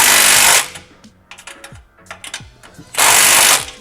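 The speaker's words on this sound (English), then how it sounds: "Now you wanna tighten these a lot because they're crushing the 2 pipes together to make sure they don't leak." Exhaust cutout clamp nuts are tightened with a ratchet onto studs crushing two pipes together: rapid clicking ratchet bursts at start and end, with scattered metallic taps and clinks between, close and loud.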